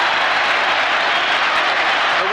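A football crowd applauds Gary Rowell's hat-trick goal for Sunderland, a loud, continuous roar of clapping and cheering throughout.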